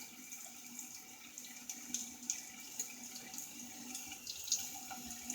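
A bathroom tap runs steadily while a safety razor is rinsed under it, a soft continuous stream with small splashes and clinks from the blade in the water.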